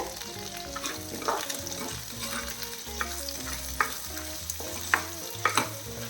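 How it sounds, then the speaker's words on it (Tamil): Shallots sauté in a pan over a low flame, a soft continuous sizzle broken by scraping stirs and a few sharper clinks, close and fairly quiet, with no talking. "சேர்த்துட்டு நல்லா கிளறி வதக்கணும் சின்ன வெங்காயம் ஒரு மூணு நிமிஷமாவது வதக்கணும்"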